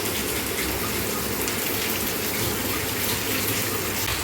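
Tap water gushes steadily and loudly into a sink as a bitter gourd (kakrol) is rinsed and its skin scrubbed in a home kitchen, the broadband rush continuous with no voices.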